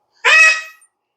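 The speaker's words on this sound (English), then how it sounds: "excuse the bird, he's in a mood this morning" A pet bird gives a single loud, harsh honk, close and alone, lasting about half a second.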